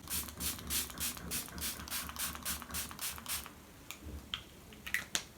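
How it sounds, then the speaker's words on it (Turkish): Makeup setting spray is spritzed from a distance in a rapid run of about a dozen short, even pumps, followed by a few scattered softer bursts and small clicks, close and clear with no talking. "Ben hemen bir sabitleyici sprey sıkacağım."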